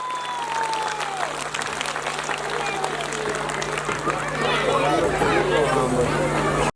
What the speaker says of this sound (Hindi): इनके लिए आशीर्वाद में जोरदार तालियां तो बजा दीजिए।